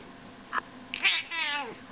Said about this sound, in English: Oh yeah, mean little kitty, you okay?